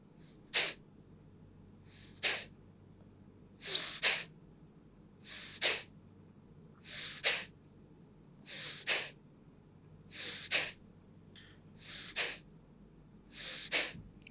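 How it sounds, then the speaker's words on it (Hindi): Kapalbhati yoga breathing: about a dozen sharp, forceful nasal exhalations pushed out by abdominal snaps, spaced roughly a second or two apart, close and loud. There is no talking, only faint background hiss between bursts. "अपने पेट को झटके से अंदर लेके जाना है और सांस को झटके से बाहर निकालना"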